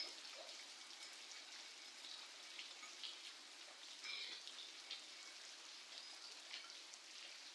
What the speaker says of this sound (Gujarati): એકદમ મસ્ત વરસાદ આવે છે